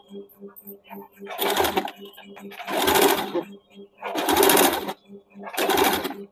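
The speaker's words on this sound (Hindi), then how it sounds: "अभी कंधे तक आते समय हम लोग ये हल्का खींच के सिलेंगे।" A sewing machine stitches a strip onto a blouse in four loud bursts of rapid whirring stitching, separated by pauses with a soft ticking hum, and a voice speaks at times between runs.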